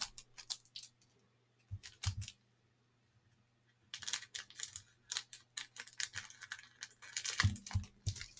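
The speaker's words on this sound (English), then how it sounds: "I just really want to just snip through these really nicely so I don't wreck any of the cards" Scissors cutting through cello wrapping on 1989 Fleer baseball card packs: sharp, crisp snips and crinkles in scattered bursts separated by quiet gaps, with a faint steady hum underneath.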